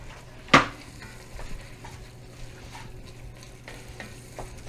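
Chili meat browning in a pot with chopped chipotles in adobo sauce, a sharp clank of a utensil against the pot, then soft scraping stirs over a low sizzle.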